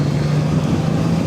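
Honda Goldwing Tour motorcycle from 2021, its engine a steady, loud low hum with a constant tone, heard alone for a brief moment.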